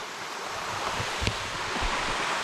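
River water flows in a steady, broadband rush close to the microphone, with a few soft splashes and bumps breaking the even wash.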